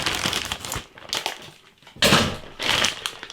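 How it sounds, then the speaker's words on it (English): Scissors cut open plastic packaging of Lidl Red Hen hot and spicy chicken fillets, giving loud close crinkling and crunching bursts in uneven bouts. "The scissors, let's get them open."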